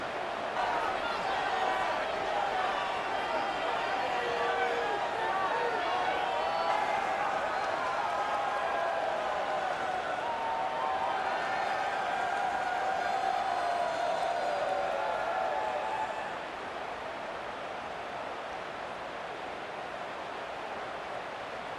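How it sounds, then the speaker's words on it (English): Stadium crowd in the EA Sports College Football 26 video game at a Kansas State versus James Madison matchup, a dense continuous roar of cheering that holds steady and then eases slightly near the end. "this crowd is feeling themselves after that last drive"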